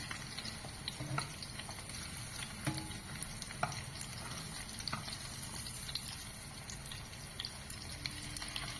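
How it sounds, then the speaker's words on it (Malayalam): Continuous soft sizzling and bubbling of prawn balls frying in coconut oil, with occasional light clinks and stirring, fairly quiet and without talk. "ഇത് മറിച്ചിട്ട് നന്നായിട്ട് മുരിച്ച് വറുത്തെടുക്കണം"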